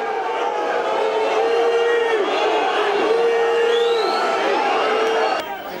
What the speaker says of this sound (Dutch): Onder luid boegeroep stapt hij de kleedkamer binnen.